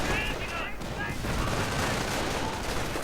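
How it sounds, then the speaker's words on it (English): Battle noise in a war video game: dense gunfire and explosive rumble roll continuously at moderate loudness, with a few brief tonal game sounds at the start. "Artillery right down on this huge clump."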